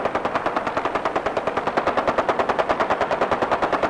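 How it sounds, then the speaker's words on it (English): Rapid automatic gunfire in the Fallout 4 video game rattles in a fast, evenly spaced stream of loud shots that runs nearly unbroken from start to finish. "Boy, they are shooting real close."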